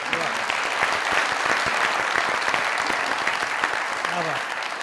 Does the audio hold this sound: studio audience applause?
yes